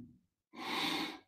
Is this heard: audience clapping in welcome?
no